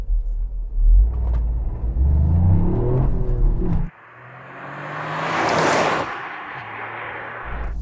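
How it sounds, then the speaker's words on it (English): A three-cylinder car engine with a diesel-like rattle rumbles and revs up while driving, then drops to a lower drone with rising road and wind noise, close and fairly loud. "it sounds like a diesel. 3-cylinder rattle. Let's see what it's like when you're driving it."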